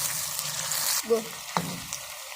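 Onions frying in oil in a pan for chicken biryani, a steady broadband sizzle with a couple of brief stirring scrapes partway through, close and fairly loud with no talking.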